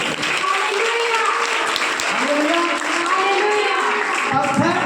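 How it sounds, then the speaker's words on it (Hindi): Audience applause at a Christian church gathering, heard as a continuous wash of clapping from a crowd that lasts the whole stretch, mixed with voices speaking over it. "अंकल जी के लिए ताली बजाओ सब लोग।"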